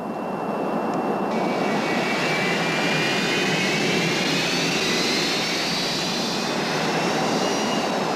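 Steady jet airliner engine drone in cruising flight at 31,000 feet, a broad, even roar that holds at constant loudness from start to finish, with a faint high whine running over it and no voices.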